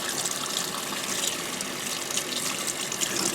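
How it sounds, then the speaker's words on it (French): Makeup brushes are rinsed under a running tap: a steady, close stream of splashing water runs evenly throughout, with no voices. "Donc ensuite je rince."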